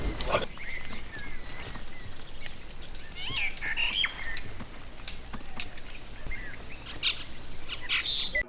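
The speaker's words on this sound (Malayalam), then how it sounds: "കണ്ടമാനം പക്ഷികളുണ്ട് കേട്ടോ." A dry forest near Masinagudi is full of birds, with many chirps and calls scattered over a soft steady background, some close and some distant.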